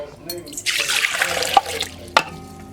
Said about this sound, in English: at first what I do is I add my water.